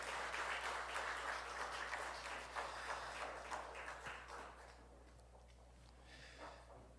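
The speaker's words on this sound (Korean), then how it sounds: "박수 한번 보내주세요." A church congregation at a Sunday evening service applauds a choir, a steady wash of clapping that holds and then gradually thins and fades toward the end.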